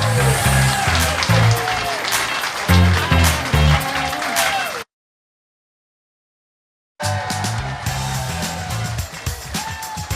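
A crowd at a Minnesota State Fair show applauds in a dense, sustained clatter of clapping, cut off by a short silence before the applause resumes.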